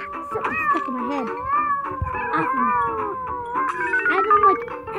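Game cats in a cat simulator meow repeatedly in rising and falling drawn-out cries, close and fairly loud, with a person talking over them.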